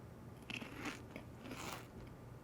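Someone bites and chews crunchy food close up but faintly, with several crisp crunches and chewing sounds over about two seconds.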